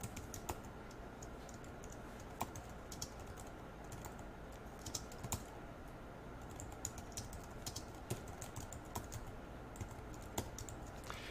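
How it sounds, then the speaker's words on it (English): Steady typing on a computer keyboard, a continuous run of light, close key clicks with occasional firmer taps, heard alone with no talking. "I'm just going to type out this note"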